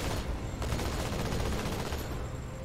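Heavy gunfire from the video game Halo 2 crackles in a dense, continuous fusillade, loud and steady throughout with no clear gaps.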